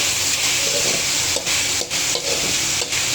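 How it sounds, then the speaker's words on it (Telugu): Chicken fry being stirred in a pan at home, a steady close sizzle under repeated scraping strokes of a spoon, with a few brief dips in the frying hiss. "ఒకసారి బాగా తిప్పుకున్నాం"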